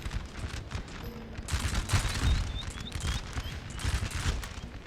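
Musket volleys crackle in a Napoleon: Total War battle, with ragged overlapping shots from massed infantry rolling on throughout, moderately loud with some distance.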